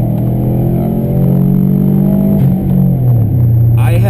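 Engine of a 2004 Subaru WRX with a 4EAT automatic transmission pulls hard at full throttle, rising in pitch, then dipping as the gearbox shifts near the end; loud, close interior recording.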